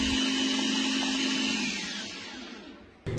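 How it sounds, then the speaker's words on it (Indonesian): Electric food chopper whirring steadily as it grinds ingredients smooth for an Indomie dish, a loud continuous motor drone that eases down and cuts off near the end, with no talking. "semua bahannya aku mau halusin pakai chopper atau mau kalian blender"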